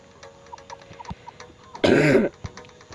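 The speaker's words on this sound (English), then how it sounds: "Sorry for my cough" A single harsh, close cough bursts out for about half a second, surrounded by faint clicking and tapping.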